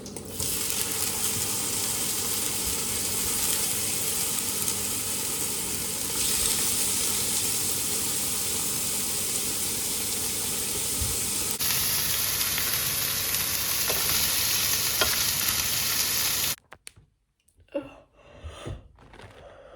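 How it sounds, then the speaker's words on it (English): Sausages sizzle and fry steadily in a pan with chopped tomatoes added, a constant loud crackling hiss that shifts in tone partway through, then cuts off into quieter handling noises. "now the sausages are sizzling, I'm going to add in the tomatoes"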